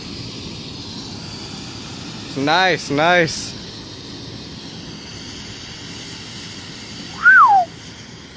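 Homemade DIY smoke bomb hissing out a steady jet of smoke, a continuous broad rushing hiss close by, with someone speaking briefly over it.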